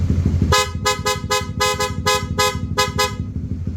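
A German-made snail horn fitted to a Honda CB150X motorcycle sounds a rapid string of loud, close honks, about a dozen sharp blasts in quick pulsing bursts over a steady low engine hum.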